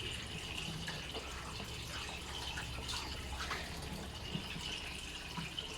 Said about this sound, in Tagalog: mahugat ko sa plato para limpyo ang lababo hawan